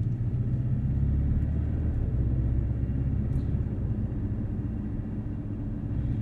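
Steady low engine rumble of a Porsche Cayman cruising around a track, a constant droning hum with no voices, fairly close and even in level.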